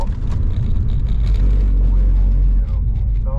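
Rear-wheel-drive car engine on a wet Tor Krzywa training track, heard as a loud, close, continuous drone with fluctuating revs while cornering as the driver lifts off the throttle; no voices break through.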